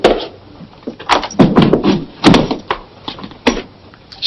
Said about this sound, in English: Shut the door, Rocco.